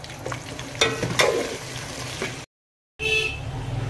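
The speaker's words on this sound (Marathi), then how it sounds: "कांदा चांगला लाल रंग होईपर्यंत कांदा आपल्याला फ्राय करून घ्यायचा आहे" Sliced onion frying in a pan for a dal chicken dish, a steady sizzle with a few sharp stirring clinks, briefly dropping to silence before the frying resumes.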